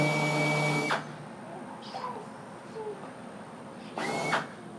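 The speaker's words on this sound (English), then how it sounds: "let me drill all the way through on these" A power drill bores holes through parts of a Sling TSi aircraft fuselage under construction, two bursts of high whirring about a second each, separated by quieter handling noises, heard close.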